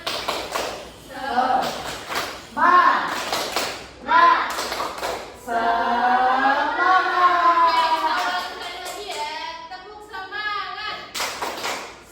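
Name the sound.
children doing the 'tepuk semangat' clapping chant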